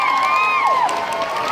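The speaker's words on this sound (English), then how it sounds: "Give him a big round of applause." Crowd noise at a San Diego Comic-Con sing-along panel, with whoops and shouts over a steady wash of noise and a loud sliding whistle-like tone rising and falling.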